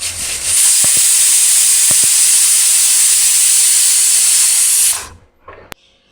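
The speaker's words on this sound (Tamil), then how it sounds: "குக்கர் விசில் வந்து ஆவியெல்லாம் போயிடுச்சு" Pressure cooker venting steam after its whistle in a home kitchen: a loud, steady close hiss for about five seconds that cuts off abruptly, followed by a couple of faint clicks.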